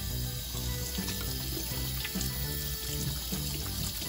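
Tap water runs steadily into a sink while a cuttlefish is washed, a constant close splashing flow with no talk.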